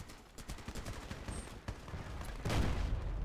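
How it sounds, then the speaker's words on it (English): Gunfire in a competitive video game match, a steady stream of distant rapid shots with bursts that grow louder and closer near the end. "They are shooting."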